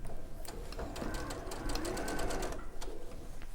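A sewing machine stitches a peony fabric panel, a steady rapid whirring run that pauses briefly near the end, heard up close under a faint background voice.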